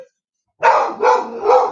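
A dog barks three times in quick succession, loud and close, each bark a short rough burst after a moment of near silence.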